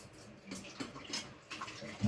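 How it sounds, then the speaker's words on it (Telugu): Water is poured into a pan of cauliflower masala gravy curry, along with leftover water from the spice-paste grinder, a faint, uneven splashing in short bursts with no voices. "నేను ఇంకొన్ని నీళ్ళు పోసేస్తాను"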